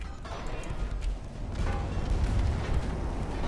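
Torpedoes strike and explode against a warship in the naval game Ultimate Admiral: Dreadnoughts, heard as dull, rumbling low booms that build into a sustained heavy roar.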